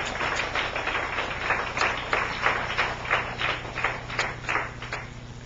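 A church congregation gives a round of encouraging applause, many hands clapping together in a dense, even patter that stays steady throughout, somewhat distant and roomy.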